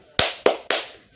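Students in a classroom clap the 'tepuk semangat' spirit clap together as three crisp, loud unison claps in quick, even succession, each ringing out briefly before the next.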